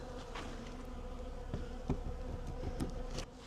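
A steady, close insect drone of many honey bees buzzing continuously around an old hive during removal, with a few louder passes as individual bees fly near.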